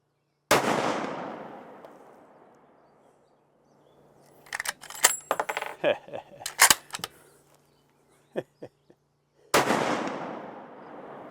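A 300 PRC rifle fires Hornady ammunition without a suppressor outdoors, giving two loud sharp shots with long decaying echoes, separated by clicks and clatter of handling the rifle.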